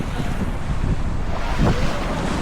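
Sea water rises and waves wash against the shore at Pantai Jerman beach in Bali, a loud constant roar of surf mixed with heavy wind buffeting the microphone.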